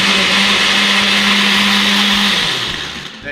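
Countertop blender liquidizing tomatoes for an Italian sugo sauce, a loud steady whir running alone for over two seconds before the motor cuts off and spins down.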